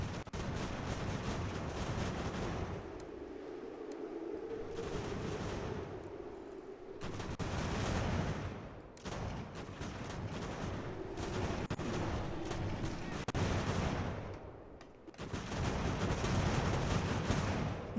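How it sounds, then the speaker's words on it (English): Musket volleys and artillery fire in a strategy game battle at Fort Stanwix during the American Revolution, dense rolling gunfire and booming cannon that swell and fade in waves, loud and nearly continuous. "we're taking volleys from them"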